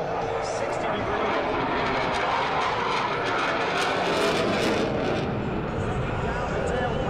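F-18C Hornet fighter jet with two GE F404 engines on afterburner making a level pass at an airshow, a loud, continuous broadband roar that holds steady throughout, with a crowd announcer's voice underneath.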